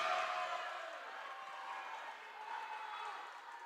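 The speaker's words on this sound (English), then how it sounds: "This Northwestern crowd is loud, excited for their team" Noisy NCAA volleyball crowd in a Northwestern gym during a timeout, a steady, somewhat distant wash of cheering and scattered clapping that fades slightly and swells again.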